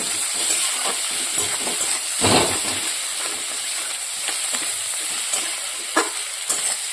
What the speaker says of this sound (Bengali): হলুদটা দিয়ে দিয়েছি এবার নাড়াচাড়া করবো